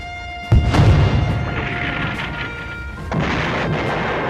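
A warship's forward main gun fires in a naval battle off the Yellow Sea: a single loud, deep boom with a heavy rumbling tail, then a second weaker thud, set against a steady background hum.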